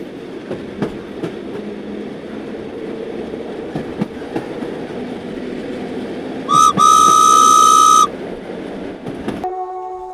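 Low rumbling hum of the Yesvantpur–Howrah express train idling at platform six, then a loud, sustained horn blast of about a second and a half that abruptly stops.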